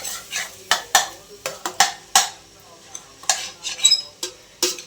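A ladle stirs mutton paya in an open cooker pot, giving close metallic scrapes and sharp clinks at an irregular pace with short quiet gaps between strokes.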